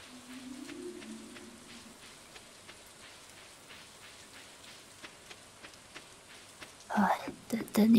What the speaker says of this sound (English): Warm rain is a pleasant way to get clean.